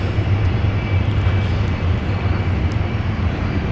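Finnair Airbus A350 airliner in Moomin livery, heard as a steady, loud aircraft roar with a low engine rumble, held evenly throughout and sounding some distance away with no one talking.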